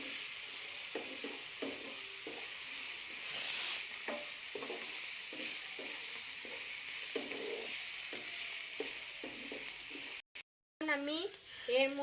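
Oil sizzles steadily in a pan while vegetable noodles are cooked, with repeated soft stirring and scraping knocks over the hiss and a brief clatter near the end.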